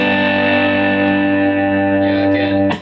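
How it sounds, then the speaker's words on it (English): Electric guitar played through an MXR Duke of Tone overdrive pedal, a sustained distorted chord ringing loud and steady before cutting off with a brief scrape at the end. "we can compare that to the OD setting on the Duke of Tone here"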